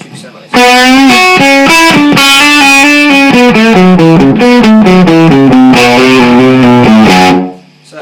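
An electric guitar with heavy distortion plays a lick, a loud, quick run of picked notes with hammer-ons climbing and falling in a steady rhythm, ending on a ringing note that fades.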